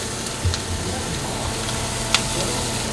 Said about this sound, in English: Oh yeah, you see that little sizzle?